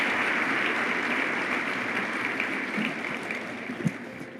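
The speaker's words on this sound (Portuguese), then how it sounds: "Vamos dar outro aplauso" A church congregation applauds steadily at a service, a broad wash of clapping that gradually fades, with a few louder individual claps near the end.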